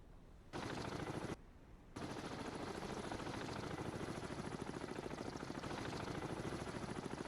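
A naval helicopter landing on a ship in the submarine game Cold Waters, heard as a dense, steady rotor chop that briefly drops in level and then resumes, loud and continuous with no talking.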